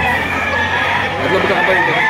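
A crowd of chickens and roosters at a Philippine market crows and clucks all at once, a dense, loud overlapping din with people talking underneath.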